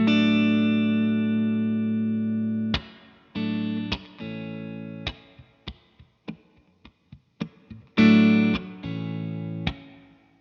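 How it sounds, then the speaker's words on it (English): Electric guitar chords ring out drenched in smooth plate reverb from a Fender Tre-Verb pedal, first sustained, then a run of short staccato stabs, before two more long washed chords. "the plate setting, which is the third and last reverb setting"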